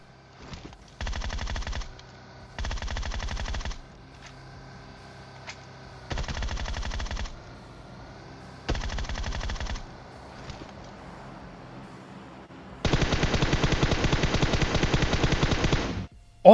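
Automatic gunfire in PUBG Mobile: four loud sustained bursts of rapid shots separated by short pauses, then a longer continuous burst of about three seconds near the end, with faint game ambience between.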